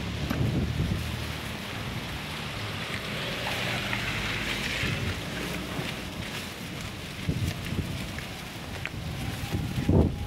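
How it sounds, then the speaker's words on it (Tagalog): Strong wind roars steadily into the microphone outdoors, a broad continuous rush with occasional gusty low thumps throughout, heard while riding on a tricycle. "Masyadong mataas ang hangin. Malakas ang hangin."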